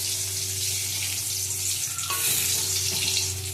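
Eggplant sizzles steadily in hot oil, a continuous bright frying hiss with a low hum beneath and a soft clink partway through, no voices.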